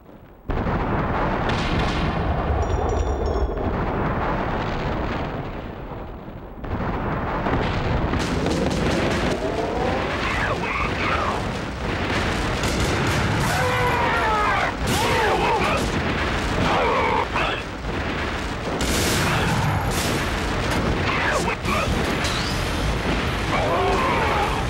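Explosions and heavy gunfire from the action video game Gungrave: Overdose, loud and dense booms sustained through the whole stretch, with a brief dip before the blasts swell again.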